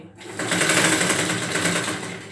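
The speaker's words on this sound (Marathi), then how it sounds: "बरोबर अर्ध्या इंचावर ना शिलाई मारत असं जायचं" A sewing machine stitching pleats half an inch apart on an eight-panel sari petticoat, a fast steady whirring rattle close up that starts abruptly and runs without a break.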